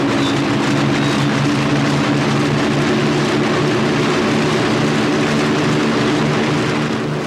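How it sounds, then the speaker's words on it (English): The four engines of an Avro Lancaster bomber run up on the runway at Hemswell, a loud, steady, close propeller-engine roar with a deep droning hum and no breaks. "The pilot opens up the four engines and releases the brakes."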